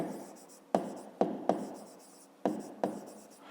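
Pen or pencil writing out a fifth-grade maths solution on paper, close and distinct: scratchy strokes with several sharp taps as the tip meets the page at irregular intervals, no talking.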